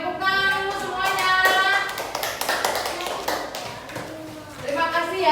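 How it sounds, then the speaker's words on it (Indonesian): Fourth-grade classroom of children clapping their hands together, a burst of quick irregular claps rising and swelling, fading briefly, then picking up again at the end, with a teacher's voice heard over it. "tepuk tangan dulu semuanya"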